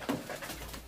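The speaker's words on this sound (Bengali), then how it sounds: "আন্ধ্রা পায়রার কত সুন্দর পায়রা" Andhra pigeons in a loft give a brief, faint coo, soft and low, over quiet background noise.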